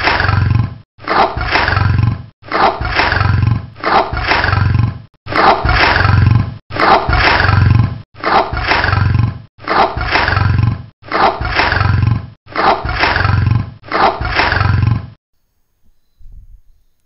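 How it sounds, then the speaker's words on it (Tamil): Tiger roars, about eleven long, loud, deep calls repeated at a regular pace with short gaps between them, followed by a brief quiet tail. "இப்போ நம்ம பார்க்க போகிறது டைகர், புலியோட சத்தம்."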